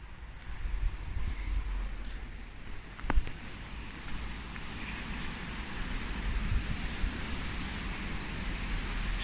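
Wind blows steadily across an allotment garden in May, a broad rushing roar with microphone buffeting and one brief gust in the middle, continuous and fairly quiet, with no talk.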